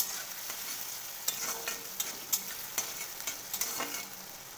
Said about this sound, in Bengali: আবার খুব ভালো করে নাড়াচাড়া করে নেব।